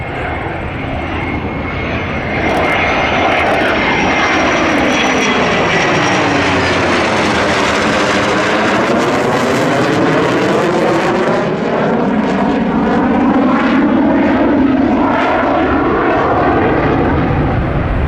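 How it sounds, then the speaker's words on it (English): A US Navy EA-18G Growler and an F4U-4 Corsair fly a legacy formation at an air show and touch down just past the runway numbers. Loud, sustained engine roar builds and shifts in pitch as the aircraft pass close by. "Touching down, just over the numbers is Scott Yote"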